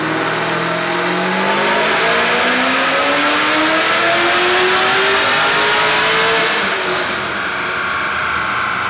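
A supercharged Chevy SS engine on a dyno with a big intake, elbow and throttle body revs up in a long climbing pull, loud and strained, then eases off near the end.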